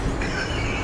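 A train in the video game Remnant 2 rolls along with a loud, steady rumble and a faint metallic squeal of wheels, continuous throughout and with no voices.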